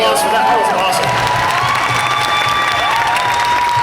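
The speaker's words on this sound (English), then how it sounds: "give a round of applause for that" A panel audience at a Q&A for The Boys applauds and cheers loudly and steadily, a dense crowd roar with whoops and clapping throughout.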